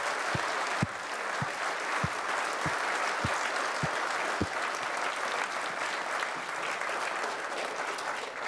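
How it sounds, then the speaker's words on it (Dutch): Crowd at a Frisian municipal election candidates' debate gives sustained loud applause, steady dense clapping with a few sharp low thumps early on, continuing evenly throughout. "Een daverend applaus voor deze mensen die dat willen"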